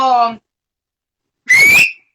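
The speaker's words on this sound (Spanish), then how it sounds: "Las únicas veces que yo silbo, pero es un silbo" A short toned sound, then after a pause a loud, sharp rising whistle, close by, someone whistling to get attention during an interview.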